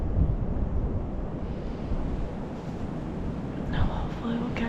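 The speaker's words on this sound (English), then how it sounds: "It's pretty windy." Strong wind buffets the microphone at a tree deer stand during a December muzzleloader hunt, a constant low roar with gusts, and faint talk briefly under it.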